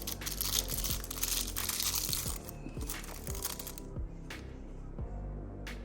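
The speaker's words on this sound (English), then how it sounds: "I'm gonna keep them in their little plastic bags." Crinkling of small plastic bags holding parts of a Mezco 1:12 Batman action figure, close, irregular rustles and crackles with a few sharp clicks and brief quiet gaps.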